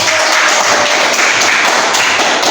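A classroom audience applauds a student presentation group with a dense, steady wash of clapping, loud and sustained through the whole moment.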